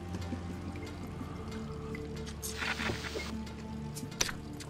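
Steady hiss of a shower running in the survival game Sheltered, a continuous watery spray at a low, even level with a brief brighter gush midway and a small knock near the end.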